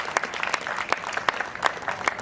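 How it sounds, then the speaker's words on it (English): An audience at an annual award ceremony gives a short burst of applause, scattered claps from a moderate-sized crowd heard at a modest distance. "I would like to give them a big clap for the wonderful comparing that they've done."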